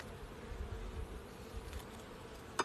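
Honeybees hum steadily at a beehive during an oxalic acid varroa treatment, a soft continuous buzz with a brief sharp tap near the end.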